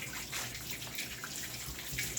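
Tap water runs steadily into a tub for a puppy's bath, a soft, continuous splashing hiss with faint dripping, fairly quiet and without voices.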